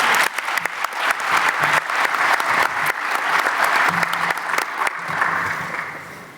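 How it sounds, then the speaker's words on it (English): A large audience at a conference opening ceremony applauds steadily for about six seconds, a dense, loud wash of clapping that fades slightly toward the end. "So a round of applause, please, for Marianne."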